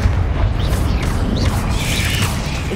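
A Confringo spell explosion in Hogwarts Legacy makes a loud, deep, rumbling blast that fills the whole moment, with bright whooshing magical effects streaking over the top.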